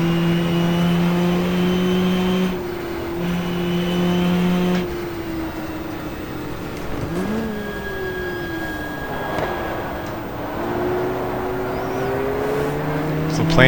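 A race car engine in the GTR2 racing game held in second gear with a full fuel tank on the Jarama circuit, a loud steady drone with shifting pitch, briefly dipping and rising, under a speaking voice.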